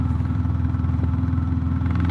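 A Royal Enfield Classic 350 single-cylinder motorcycle fitted with a DNA air filter idles steadily nearby, its deep, even thump pulsing without a break.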